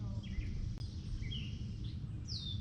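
Faint outdoor ambience by a frozen lake, with a few brief high bird chirps and tweets scattered over a low, soft background rumble, quiet and distant with no talking.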